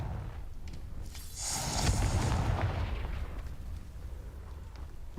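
A Confringo explosion spell cast in the video game Hogwarts Legacy: a sharp blast that swells into a loud, rumbling roar and slowly fades out over several seconds, with no talking.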